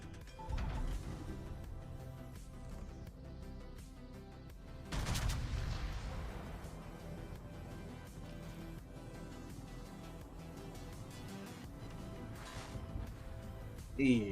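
Naval gunfire in World of Warships aimed at the Z42 destroyer, heavy booming salvos rolling over a dense battle soundscape, with one loud burst standing out midway and another at the end, under faint streamer chatter.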